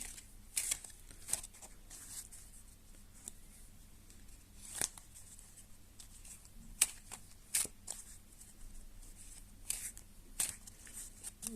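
A new deck of Bicycle playing cards is shuffled by hand close up, with repeated quick riffles and flicks in irregular bursts against a quiet room.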